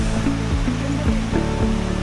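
Cedar Falls waterfall in Bukidnon roars steadily and fairly close, a dense, unbroken rush of falling water with no voices over it.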